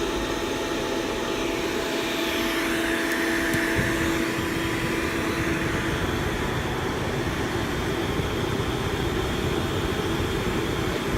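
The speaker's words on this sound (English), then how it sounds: "I'm gonna turn this on so that gas doesn't build up like last time." Gas burner on a homemade foundry running at full blast, a loud, steady roaring hiss with an even rumble and a faint tonal whine, continuous and unchanging throughout.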